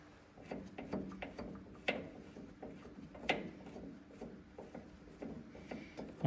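Metal clicks and scrapes from threading a nut onto a bolt on Unimog 411 suspension, irregular close taps and rubs with a couple of sharper knocks, no talk.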